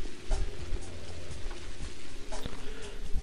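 Steady rain falling in the video game Pathologic, a dense continuous patter of drops on surfaces with a few heavier hits, filling the scene at a constant level.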